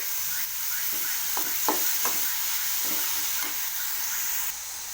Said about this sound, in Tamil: பார்த்திங்களா, அப்படியே வதங்கிக்கிட்டே இருக்குது